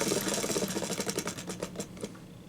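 An online roulette wheel for a game banlist spins with rapid ticking clicks that slow and space out as it comes to a stop.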